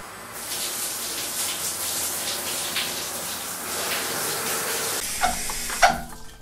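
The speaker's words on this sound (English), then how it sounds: "First, I'm gonna rinse him off." Water runs steadily from a bath tap or sprayer, rinsing a Pomeranian dog in the bath, a continuous hiss and splash that falters and sputters near the end.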